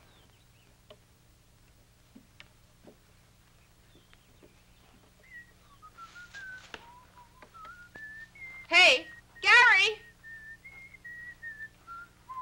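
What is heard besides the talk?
human whistling a tune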